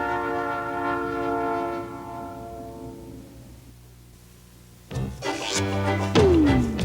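Southern Pacific railroad train, a long loud horn blast that fades, then rumbling rolling cars with a clanking burst and a rising whine close by.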